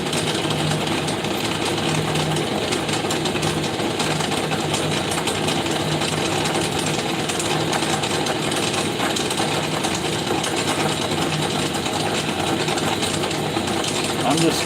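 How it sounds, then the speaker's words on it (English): Wood lathe spinning a piece of wood, a steady dense mechanical hum and rattle that stays constant throughout with no clear pauses. "I'm going to start the lathe up"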